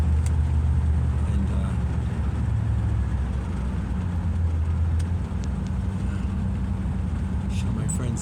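Steady low engine rumble from a 1957 Buick car on the road, continuous and fairly loud throughout with road noise, no talk over it.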